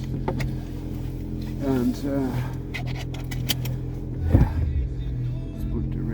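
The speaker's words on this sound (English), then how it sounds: "Starting this Suzuki Swift Sport hybrid." A Suzuki Swift Sport hybrid ZC33S with an HKS Hi-Power Spec-L exhaust cranks and fires into a brief rumbling idle heard from inside the cabin, with a person talking over it.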